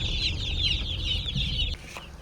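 A cluster of farm chicks in a village yard peeps and chirps continuously at close range over a low rumbling background, then the chatter thins out toward the end.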